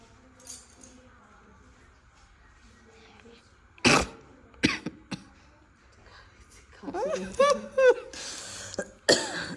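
A few sharp coughs and throat-clearing bursts in quick succession, close by, with faint background sounds between them.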